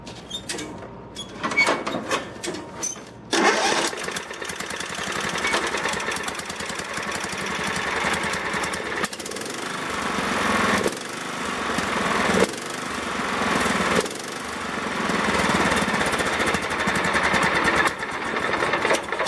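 A racing lawn mower with its deck removed is started: a few cranking bursts, then the small engine catches and runs, its loud buzzing drone rising and falling with throttle changes and stumbling briefly at times.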